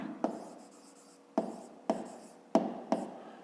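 A pen writes on paper close by, a soft steady scratching broken by five sharp taps and strokes as marks are put down.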